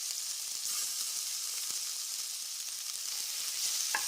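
Chopped onion and garlic frying in oil for tomato chutney, a steady bright sizzle close by with a few faint stirring taps and no voices.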